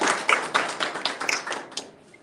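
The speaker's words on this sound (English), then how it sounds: "So, a warm applause for him, please" Scattered hand claps from a panel audience greeting a human rights defense chairman in Geneva, a short thin burst of separate claps that fades out within a couple of seconds.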